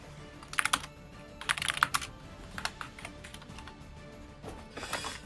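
A loud computer keyboard clatters in quick bursts of keystrokes with short pauses between them, close and sharp over a low background hum during an online esports tournament broadcast.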